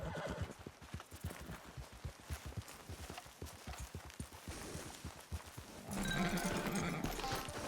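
Horse hooves clip-clop in a steady walking rhythm in the video game Red Dead Redemption 2, then a loud neigh rises near the end over the footfalls.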